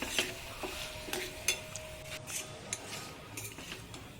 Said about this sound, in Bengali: তার জন্য নাড়াচাড়া করতে হবে, দাঁড়িয়ে থেকেই রান্নাটা করে নিতে হবে।